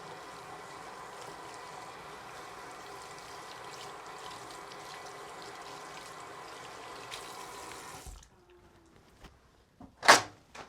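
Water runs steadily from a tap while hands are rinsed at a sink, a close continuous rushing stream that stops abruptly near the end, followed by a few faint clicks and a brief rustle.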